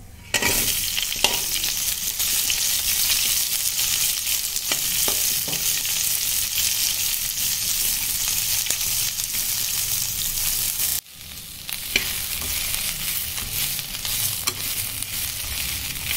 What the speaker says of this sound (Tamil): இது பொரிஞ்சோன்னே வரமிளகாவும் கொத்தமல்லியும். அப்புறம் வெங்காயம்.